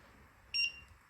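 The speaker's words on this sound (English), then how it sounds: "the buzzer sounds" One short electronic beep from an Arduino Uno buzzer, a bright high-pitched tone lasting a fraction of a second against quiet background hum.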